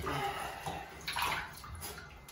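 Bath water sloshes and splashes in a tub as a dog gets her first bath, a continuous close wash of running, churning water with brief louder surges and no talking.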